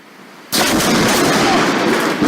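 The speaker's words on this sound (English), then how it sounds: "The sound of an explosion echoed as a bolt of lightning struck a large tree, causing it to burst into flames and shatter into pieces." A lightning bolt strikes a large tree with a sudden, very loud explosive crack that bursts in abruptly and then sustains as a roaring, crackling blast.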